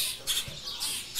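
Baby bluebirds at a bird rescue center give short, high, repeated chirping bursts in a quick uneven rhythm, close by, with no talking.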